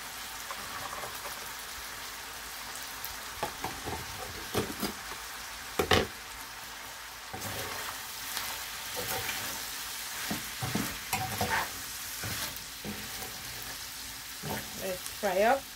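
Fresh shrimps sizzle and fry in a pan for mustard calloolu, a steady close crackle broken by occasional stirring clinks and scrapes, with no talking.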